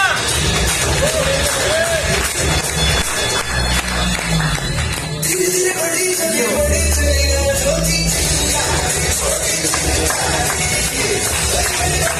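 Loud clapping and cheering from a crowd at a Modicare business recognition meeting in Hisar, dense and continuous with shouts and babble mixed in throughout.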